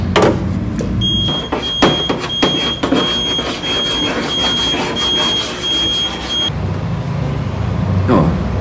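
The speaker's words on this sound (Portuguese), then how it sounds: "enquanto ela estiver dando esses bips, significa que ela tá ligada." Steady high electronic beeping from a switched-on paintless dent repair machine in a workshop, repeating for several seconds over a loud background hum and clanks, then stopping.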